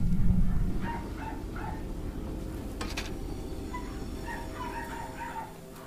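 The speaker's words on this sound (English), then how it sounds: "it's also like the neighbor dogs that are barking" Neighborhood dogs bark from a distance in short yipping bursts, one cluster early and another later, over a low, steady background rumble.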